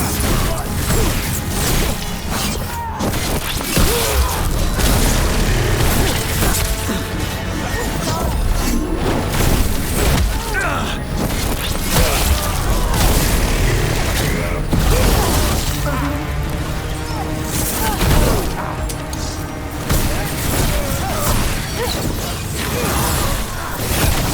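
A dense, continuous battle din from Dragon Age: The Veilguard, with crashes, booms and whooshing impacts of enemy gunfire and explosions, loud and sustained, voices faintly beneath.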